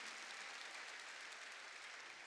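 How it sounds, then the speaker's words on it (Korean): A church congregation claps together during a worship service, a dense, steady patter of many hands that holds evenly at a fairly low level with no voices over it. "본 사람만 박수 치라고."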